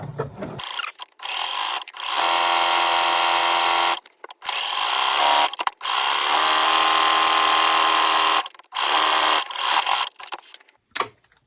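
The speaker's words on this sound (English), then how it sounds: "now I'm stretch stitching the hem in place" A sewing machine runs in bursts while stretch stitching a pressed one-inch hem on a child's top, its whirring runs starting and stopping several times with brief silent gaps between.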